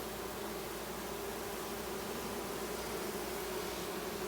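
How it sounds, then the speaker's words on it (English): Dense steady drone of a honeybee mating swarm, many bees fanning close by, a continuous even buzz with no pauses and no voices. "So if you take a look at some of these bees, they're fanning."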